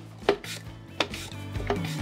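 Russet potatoes sliced on a mandoline in a kitchen, a few sharp separate strokes with a clack on each pass and quiet rustling between, close and alone.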